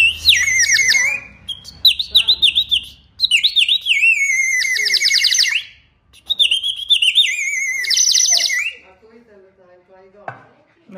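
A water-filled ceramic whistle from a traditional Cretan pottery village, blown to imitate a nightingale, gives bright warbling trills in three long bursts with short gaps, close and loud, then a few faint chirps.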